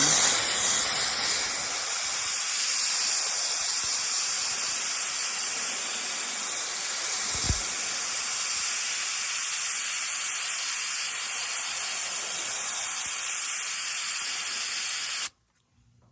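A cheap Temu sand blaster sprays baking soda onto a truck body, a loud steady hiss of air and grit running nearly unbroken for about fifteen seconds before it cuts off abruptly.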